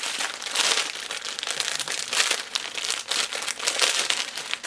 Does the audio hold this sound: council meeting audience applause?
no